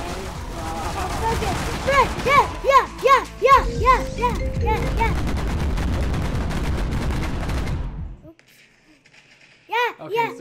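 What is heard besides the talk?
gunfire shooting a zombie in a Roblox video game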